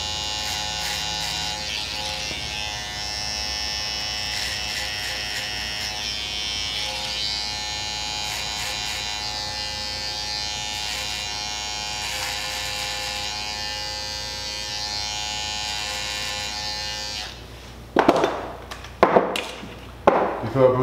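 Barber clippers fitted with a detachable 000 blade cut hair during a 360 wave haircut, giving a steady, close electric buzz for about seventeen seconds, then stopping with a few sharp handling clicks and bumps.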